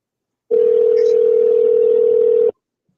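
A telephone dial tone heard while placing a call, a single steady electronic hum lasting about two seconds, starting and stopping abruptly, loud and clean with near silence around it.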